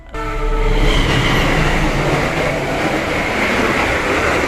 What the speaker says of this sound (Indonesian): Argo Muria tambahan melintas.